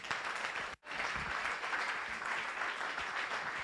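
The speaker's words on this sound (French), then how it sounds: "On peut acclamer." A church congregation applauding, a dense, continuous wash of clapping from many hands with a momentary cut near the start, steady and fairly close.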